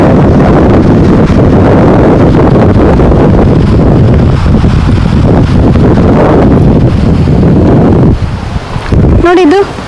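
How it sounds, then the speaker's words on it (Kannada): Cool sea wind at Sasihithlu beach near Mangaluru, where two rivers meet the sea, buffets the microphone in a loud, steady roar for about eight seconds, then briefly eases before a short, rising whistle-like tone. "ಗಾಳಿ ಮರ ಎಲ್ಲ ಇರೋದ್ರಿಂದ ತುಂಬಾ ತಂಪು ಗಾಳಿ ಬೀಸ್ತಾ ಉಂಟು."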